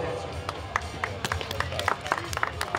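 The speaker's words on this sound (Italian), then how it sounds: "un bel applauso" Applause at an outdoor trophy ceremony for rally crews at the San Marino Baja cross-country rally: a crowd claps in scattered, uneven bursts of sharp claps, moderately close, under a steady murmur of voices.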